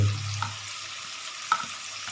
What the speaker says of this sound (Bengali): এই দেখছো রসুনগুলো থেতলে রাখা হয়েছে এটাও দিয়ে দিচ্ছি